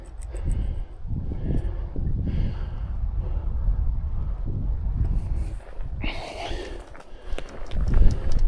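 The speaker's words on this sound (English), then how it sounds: "but it's getting windy" Gusty wind blows outdoors during an April snowstorm at an off-grid truck campsite, buffeting the microphone with low rumbling surges and rising to a stronger gust near the end.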